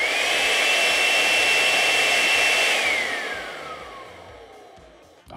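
A cordless rechargeable blower runs at speed level 7, a loud steady whine with a rising tone that holds, then winds down in pitch as the motor slows toward the end.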